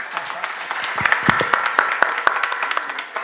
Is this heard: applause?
yes